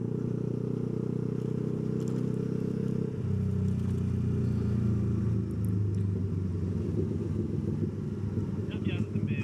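A BMW motorcycle engine rumbles steadily nearby, its low drone shifting in pitch partway through as it passes, with wind noise over the recording.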